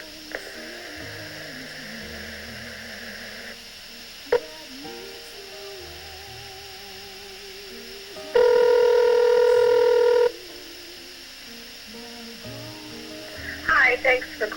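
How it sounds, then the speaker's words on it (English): A telephone call connecting on an answering line, with a steady two-second dialing or ringback tone midway over a low electrical hum and quiet background sound, followed by a brief burst of tones near the end. "Now trying to connect. Please hold."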